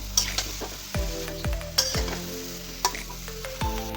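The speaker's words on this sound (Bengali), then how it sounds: "আমি এলেও ভালো সবজিগুলো লাউ শাকগুলো আমি ভালোভাবে মশলার সাথে মিশিয়ে নিতেছি" Bottle gourd greens are stirred with spices in a hot frying pan, a continuous sizzle punctuated by several loud utensil knocks and scrapes against the pan.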